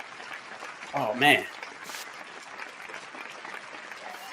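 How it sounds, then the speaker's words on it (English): An audience applauds in honor of ancestors during a talk about healing, the clapping steady and dense across the whole stretch while a voice briefly exclaims in the middle. "Let's give those ancestors a well-deserved round of applause, because they deserve it."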